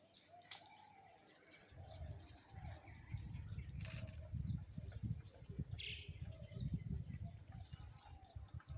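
Morning birds call around Shillong, Meghalaya, under a cloudy sky, with scattered chirps, a few sharp calls and fluttering wings over a low rumbling background, all fairly faint and distant.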